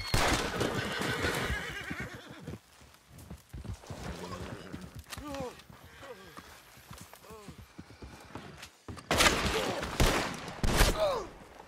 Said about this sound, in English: Look at this dumb donkey.